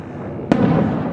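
A single sharp blast from an aerial napalm bombardment of a city under heavy shelling, a sudden crack followed by a rumbling roar, set against steady background noise.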